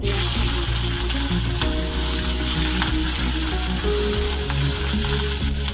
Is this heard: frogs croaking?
no